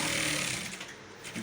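A sewing machine runs fast and steadily while stitching the shoulder line of an Ankara top, a close continuous buzzing whir that eases slightly toward the end.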